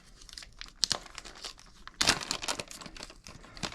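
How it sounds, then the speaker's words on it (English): A plastic bag from a Best Glide Ultimate Adventure Survival Kit crinkles close up in bursts of crackling handling, with a louder rustle midway. "Nice little plastic bag"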